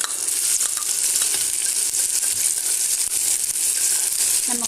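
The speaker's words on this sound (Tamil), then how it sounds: "அதில் இந்த கட் பண்ணி வச்சுருக்க நெல்லிக்காயை சேர்த்துடலாம்" Cut gooseberries (amla) sizzle in hot oil in a kadai, a dense, steady frying hiss with crackly bursts that runs loud and close throughout, with no talking.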